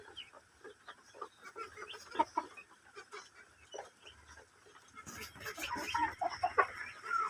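Tiger chickens clucking and murmuring as they peck at moringa leaves, several birds close by with scattered soft calls that grow busier and louder in the last couple of seconds.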